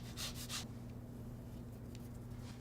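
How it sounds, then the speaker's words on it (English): A lemon is zested on a microplane grater for a sugar-and-zest mixture, producing a few quick, soft rasping strokes up close over a steady low hum. "We're using a microplaner. This gets the finest bit of the zest off of the lemon."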